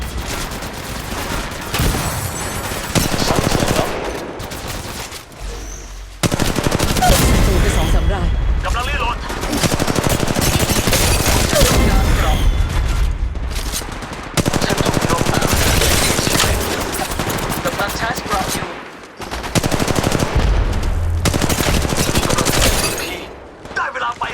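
Bursts of rapid automatic gunfire in the Apex Legends Mobile battle game, loud fusillades in several long stretches separated by short pauses, with a voice talking between and over the shooting.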